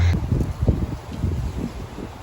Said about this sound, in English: It's really very windy right now.